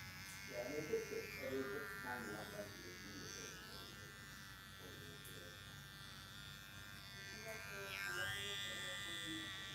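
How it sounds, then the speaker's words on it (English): Electric hair trimmer buzzing steadily at a barbershop while cleaning up the hairline around a client's ears, a close, continuous hum heard beneath ongoing talk. "Now I'm going to use old school heat trimmer and just clean around the ears a little bit"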